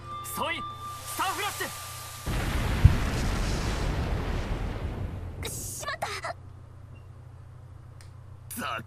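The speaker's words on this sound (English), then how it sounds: "Stun grenade." A stun grenade bursts in the Sen no Kiseki III video game with a sudden loud blast that rumbles and hisses for a few seconds, framed by character dialogue before and after.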